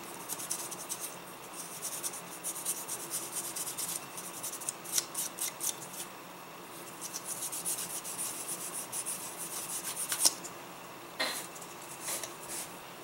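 A fine-grit sanding stick rubbed over a plastic model kit part of King Ghidorah, giving close, soft scratchy strokes in irregular bursts with brief pauses between them.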